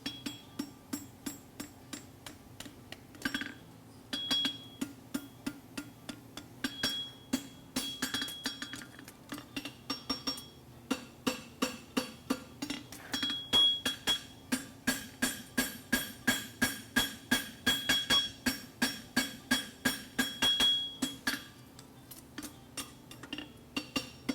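A farrier's hammer strikes a steel horseshoe on an anvil while a diamond toe hind shoe is forged at a blacksmith championship, ringing metallic blows in steady rhythmic runs with short pauses between sets.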